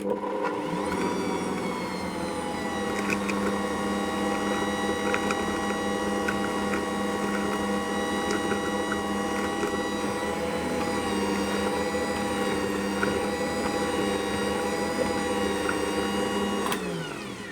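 Ankarsrum stand mixer running with flour and salt for focaccia dough, a steady whirring motor hum with a constant tone, close and continuous for the whole stretch before easing off at the end.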